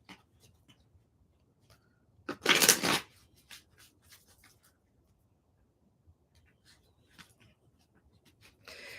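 A short burst of cards being riffled and shuffled, followed by quiet scattered taps and card handling nearby.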